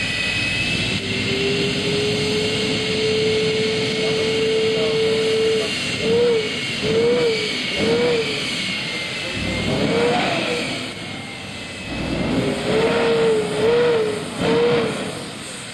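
An F-104 Starfighter jet roars loudly at an airshow, a sustained engine whine with rising and falling surges as it runs close by, with no talk over it.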